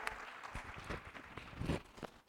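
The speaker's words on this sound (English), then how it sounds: "Let's give them a round of applause again," An audience at a Navajo Nation presidential forum in Denver gives a round of applause, fairly faint and uneven, with scattered claps rising and falling over about two seconds.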